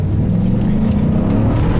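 A Ford Raptor SVT truck drives off-road in off-road mode and 4 high, giving a brief, loud, steady low engine rumble heard up close.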